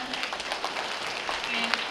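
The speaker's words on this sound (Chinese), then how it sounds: "掌声欢迎他们！" Audience applause at a Taiwanese seniors' association annual meeting, a steady patter of many hands clapping in a hall as singers are welcomed, moderately loud, with a voice briefly audible over it.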